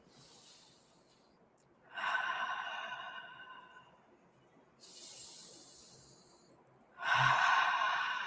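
During a guided meditation exercise, slow nasal breaths rise and fall in long, soft hissing swells, about four over several seconds, close and quiet with no talk.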